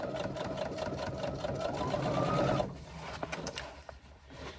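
Domestic sewing machine runs steadily stitching a 3/8 inch seam on a fabric swim bag, a close continuous whirring buzz that stops abruptly partway through, followed by quieter handling clicks and rustle.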